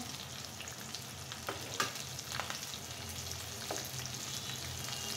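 Eggplant slices fry in a pan with a steady, close oil sizzle, punctuated by a few brief scraping and stirring clicks, with no voices.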